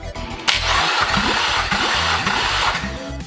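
A cold Nissan Murano engine is cranked by the starter during a compression test, a loud steady whirring churn with rhythmic pulsing from the compression strokes, close by and continuous for several seconds.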